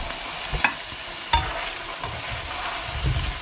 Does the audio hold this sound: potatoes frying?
yes